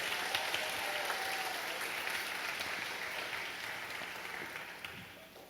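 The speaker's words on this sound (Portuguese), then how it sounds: "Aplauda e glorifica aquele que reina." A church congregation applauds in praise during a Portuguese-language sermon, a steady wash of many hands clapping that holds at an even level for several seconds before easing slightly at the end.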